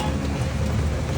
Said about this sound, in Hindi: बहुत मजे की बारिश हो रही है।